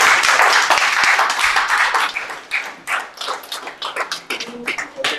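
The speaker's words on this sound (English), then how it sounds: "Let's clap for them." A group of people clap together, a dense burst of applause that thins into scattered, uneven claps before fading out, fairly close and loud.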